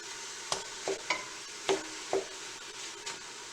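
Meat and onion pushed around on a hot grill, a series of five or six distinct scraping stir strokes over a faint, steady sizzle, with no talking.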